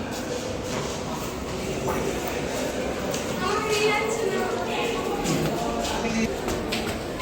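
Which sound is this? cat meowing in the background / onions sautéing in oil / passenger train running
passenger train running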